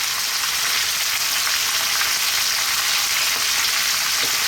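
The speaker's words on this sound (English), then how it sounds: "as you can see and hear, we've browned this meat nicely" Lamb meat, onion and a pinch of salt fry in a pan for an Indian-style methi gosht lamb curry, giving a loud, continuous close sizzle with no talking.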